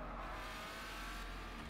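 Ford GT engine in a video game, a steady continuous drone that holds loud and unbroken throughout with no pauses or talk.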